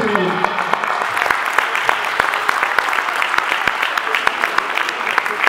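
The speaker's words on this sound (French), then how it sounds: "Donc on peut applaudir très fort." Audience applause for a girls' U9 youth football event, sustained clapping filling the whole stretch with a speaking voice over it at the start.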